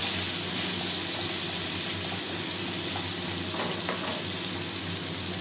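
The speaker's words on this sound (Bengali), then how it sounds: "এবার আলুটাকে মিডিয়াম ফ্লেমে ঢাকা দিয়ে দিয়ে একটু ভেজে নেব।" Potatoes for aloo posto, turmeric added, fry covered over a medium gas flame with a steady, even sizzle, close and continuous, with a faint clink of the pan lid or spoon near the end.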